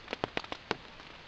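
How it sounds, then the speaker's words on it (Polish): Raindrops tapping on a tent at about 2 a.m. during a long-distance bicycle trip to the Baltic coast; a handful of sharp, separate pattering hits, close and fairly quiet, with no talking. "Zdaje się, że pada chyba."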